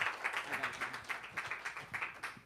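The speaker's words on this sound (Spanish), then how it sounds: "denle un aplauso de bienvenida" A small audience applauds to welcome a speaker at a testimony gathering, rhythmic rapid claps that stay fairly faint and distant, with a faint murmur of voices underneath.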